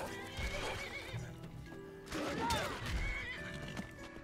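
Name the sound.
horse neighing in the video game Skyrim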